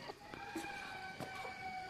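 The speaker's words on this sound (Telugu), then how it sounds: "వీటిని కాలకేయ కోళ్ళు అంటారు." Silkie chickens at a bird park in Pelling, Sikkim give a few short, close clucks and soft calls against a light background hum, with no talking.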